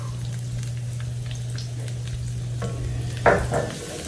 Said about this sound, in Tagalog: Pag mainit na yung ating oil, lalagyan natin ng butter.